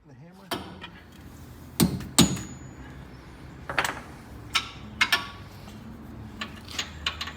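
A hammer lands sharp, separate blows on metal parts while work is being done on a GM 4104 bus, the strikes irregular and close, with quieter knocks and handling noise in between and no talk.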